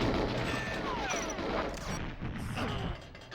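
Gunfire in the video game GoldenEye on 00 Agent difficulty in the Facility level, a dense continuous rattle of shots with clanging ricochets and crashes, loud throughout and easing slightly near the end, no voices.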